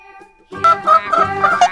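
A farm hen clucks in a quick run of short, close, throaty notes after a brief faint tone at the start, with no voices.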